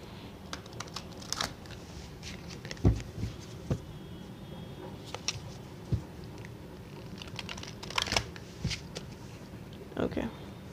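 Angel answer cards are shuffled and drawn by hand, giving soft intermittent flicks, riffles and papery taps scattered across the clip over low room noise, with a person speaking at times.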